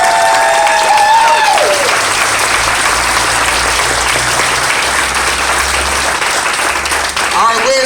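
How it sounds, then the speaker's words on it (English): A large crowd applauds the police officers at a retiring police chief's farewell, with loud, sustained clapping that fills the room from start to finish and a few cheers near the beginning. "Let's give all of our officers a round of applause."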